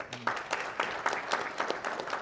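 Scattered, fairly quiet clapping from a convention audience after a real estate investing talk, a short run of distinct claps rather than a full ovation.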